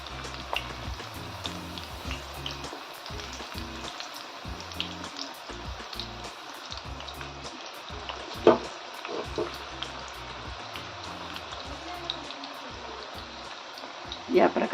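Drumstick flower fritters (bhaji) frying in hot oil make a steady, crackling sizzle with scattered pops that runs evenly throughout.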